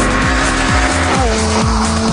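A Honda Civic Mugen RR's engine revs hard at speed, its loud, steady tonal roar rising and falling through gear changes, with faint tire noise underneath.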